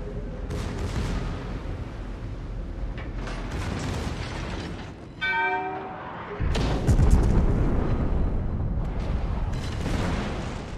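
HMS Incomparable's 20-inch naval guns in World of Warships fire with deep booming blasts. A mechanical ratcheting, rising whir of turret machinery comes between them, followed by another heavy salvo and a rumble.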